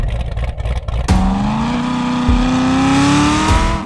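A Toyota Supra or Corvette engine revs hard after a short burst of noise, the pitch climbing steadily as it pulls away, loud and close with no talk over it.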